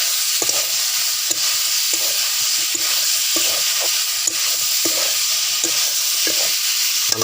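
Drumsticks, potatoes and peas fry in a pan with a constant loud sizzle, broken by regular scraping strokes of a spoon stirring every second or so; no one speaks.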